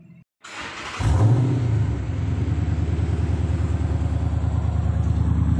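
A Dodge Charger Hemi V8 fitted with an X-Force Varex exhaust fires up after a brief crank, then settles into a loud, deep, steadily pulsing rumble close by.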